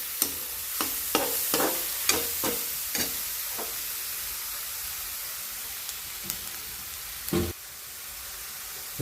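A spoon stirs a simple mashed eggplant bharit with spices and turmeric in a pan, making a run of quick, close scraping taps that slow and thin out over a soft, steady sizzle.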